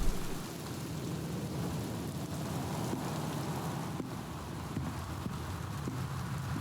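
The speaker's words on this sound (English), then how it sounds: "There is a torrent of rain happening outside in the game" Heavy rain pours down steadily outside in the video game Gone Home, a constant dense wash of falling water that continues evenly throughout with no voices over it.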